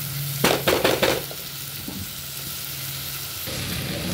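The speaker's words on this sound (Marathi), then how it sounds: "मटर पण छानपैकी मसाल्यामध्ये परतून घ्यायचे" Frozen peas sauté in masala for a spiced brinjal rice dish. A few quick, sharp stirring scrapes at the start give way to a steady, soft, close sizzle, with no talking.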